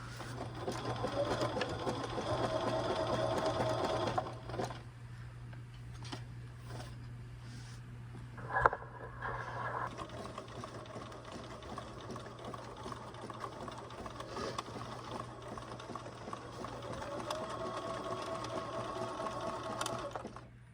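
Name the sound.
sewing machine stitching patchwork appliqué on jeans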